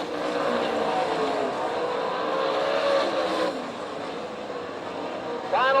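Sprint cars racing the final lap on a dirt track at Tulsa, their engines a loud continuous roar that rises and shifts in pitch as the pack passes, with a track announcer speaking over the noise.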